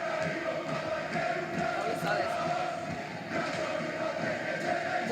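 A European basketball arena crowd roars steadily, a dense wall of cheering and chanting that stays loud and continuous throughout.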